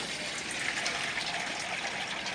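Fresh water splashes and trickles steadily into a dog's bowl outdoors in freezing weather, a continuous close gushing sound with no talking.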